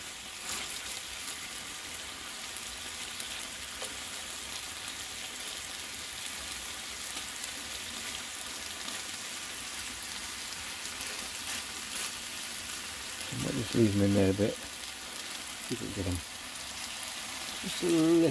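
Pork medallions sizzle steadily in a pan over a wood fire, a constant frying hiss throughout, with brief bursts of voices near the end.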